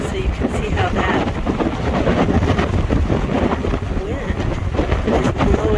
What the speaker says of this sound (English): wind is blowing the snow almost straight from left to right until it gets to the house.